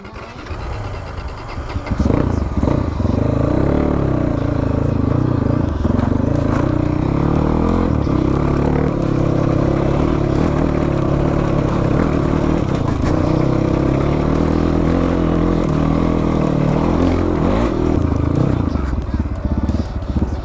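A dirt bike rides along a rough trail with no road, its engine droning close and steady at low revs with rattling and scraping over uneven ground, starting after a brief lull, with a voice occasionally heard.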